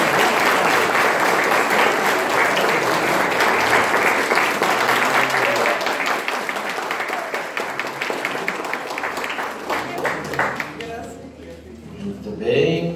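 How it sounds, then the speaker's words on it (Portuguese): Guests at a golden wedding anniversary ceremony break into a long, full round of applause, steady and close, tapering near the end under a voice. "Uma salva de palmas."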